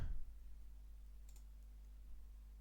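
A single computer mouse click while saving a downloaded roster file, a short, faint tap right at the start, then a low steady hum with no talking.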